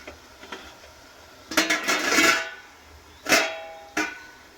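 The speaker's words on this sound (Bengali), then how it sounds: "এবারে এর মধ্যে ডিশটা বসিয়ে দেবো, আর ওপর থেকে আবারও একই রকমভাবে ঢাকা দিয়ে দেবো।" A metal dish is set down inside a pot and covered with a lid while papad made from flour is prepared, giving a few sharp clanks and scrapes close by with short pauses between them.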